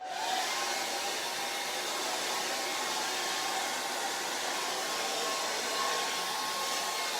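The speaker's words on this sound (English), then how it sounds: "Hair dryer comes really in handy." A hair dryer blows continuously with a steady, rushing whir, close and constant for the whole stretch, no voices.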